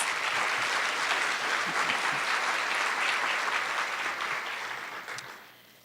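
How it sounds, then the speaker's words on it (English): A room of school staff at a back-to-school meeting breaks into steady, full applause for about five seconds, then the clapping thins and fades away at the end. "So I just want to give Carol some applause"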